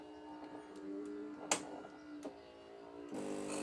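A Philips EP4010 espresso machine runs with a steady whirring, tonal hum and a few sharp clicks, then shuts off and gives way to a brief soft hiss, close and fairly quiet.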